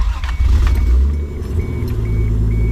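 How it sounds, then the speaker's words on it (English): A Toyota MR2 idles with a low, steady rumble after starting, loudest early and then settling, with a few faint metallic clinks over the top. "start your car."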